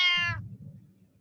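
A single short, bright cat meow from a mixed reality game, clear and close, followed by a low muffled rumble fading out with no talk.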